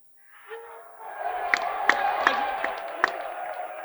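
A large crowd at the UFC 300 press conference cheers and whoops, the roar building and holding steady with scattered sharp shouts and claps rising above it.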